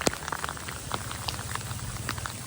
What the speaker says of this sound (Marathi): भयंकर जोरात पाऊस आलाय.